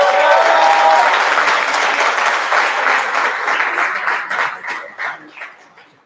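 Audience applause at a CPPA-TX Women's Day event in Fort Bend County, Texas, greeting a justice of the peace: a loud, dense round of clapping with a few cheers that thins out and fades toward the end.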